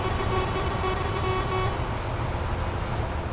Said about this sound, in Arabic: اعطينا زمور